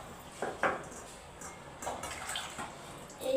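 Water splashes over a stone grinding slab as it is rinsed, in short irregular gushes and trickles with brief quiet gaps between, fairly close and moderately soft.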